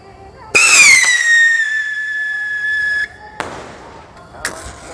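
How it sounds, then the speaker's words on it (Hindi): A rocket firework carrying a Bijli bomb firecracker shrieks upward in a long, loud whistle, then breaks off into two sharp explosive cracks a moment apart. "देखते हैं ऊपर जाके क्या ये बिजली बम ब्लास्ट होता है कि नहीं"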